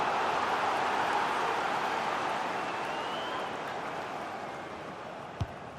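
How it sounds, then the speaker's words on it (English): Stadium crowd in a football video game during a Manchester United career-mode match in the snow, a steady dense roar that holds at a constant level throughout and fades slightly toward the end, with a brief sharp click near the close. "just listen to the crowd. They know this is a big chance to equalise."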